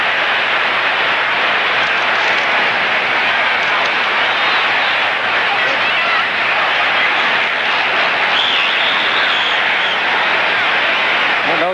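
Boxing arena crowd at a heavyweight fight, Muhammad Ali against Leon Spinks, a dense continuous roar of cheering and applause that stays loud and unbroken throughout.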